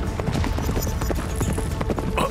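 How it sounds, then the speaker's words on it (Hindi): Horse hooves clip-clopping in a steady, rapid rhythm, close and fairly loud, with a faint whinny-like sound in the mix and no voices. "अरे ये घोड़े कहां से आ गए?"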